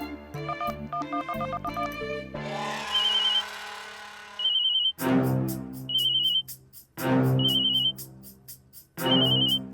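A phone rings with a repeating electronic ringtone, a loud tonal melody in recurring bursts close by, preceded by a short musical jingle.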